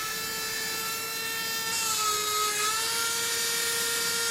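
A small drill bores holes in a lighthouse model, giving a thin, steady high whine that sags in pitch for a moment as the bit bites, then runs on evenly.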